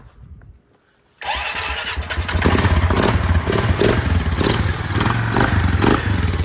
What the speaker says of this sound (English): I'll put the battery back on just so we can fire it up.